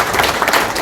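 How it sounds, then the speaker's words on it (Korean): Brief burst of audience applause greeting a lawmaker introduced at a Korean political unification committee public report meeting, dense steady clapping filling the whole moment. "큰 박수로 맞아주시기 바랍니다"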